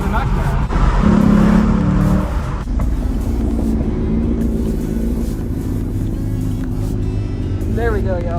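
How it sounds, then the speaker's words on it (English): A 2021 Chevy Camaro LT1 V8 drives along with a loud, steady low exhaust drone and engine rumble filling the cabin, briefly swelling early on, while a person talks over it throughout. "you can hear the exhaust better there"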